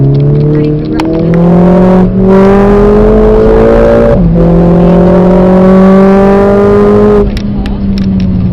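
Mercedes-AMG car accelerating on a race track, the engine revving loudly with rising pitch through gear changes, brief dips between shifts, while an instructor talks over it.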